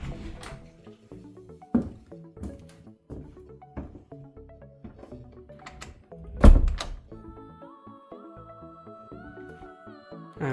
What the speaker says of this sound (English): To lock the bathroom door, just take the dial and turn this dial right clockwise to lock the door